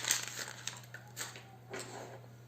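Recyclable paper is crumpled in soft, faint crinkling bursts spread across a couple of seconds, with no voices.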